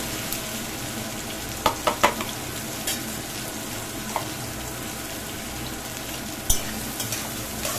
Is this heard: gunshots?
no